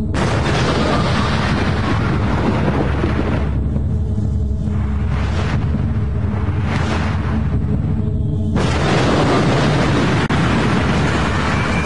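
Fat Man atomic bomb explosion over Nagasaki, a loud, continuous roaring rumble that dips briefly in the middle before surging back, with no talk.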